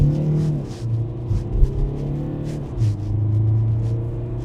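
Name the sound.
Mercedes A180d W176 accelerating at full throttle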